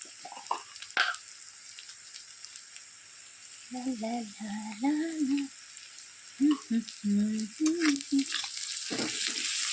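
Browned onions frying in a pan with salt and turmeric while being stirred, a steady hissing sizzle that runs underneath someone talking.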